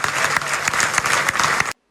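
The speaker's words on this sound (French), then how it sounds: "On vient ici pour applaudir les nominés et les nommés." Audience applause fills the hall at the Cameroon Television Awards 2024 ceremony, a dense, loud burst of many hands clapping together that stops abruptly.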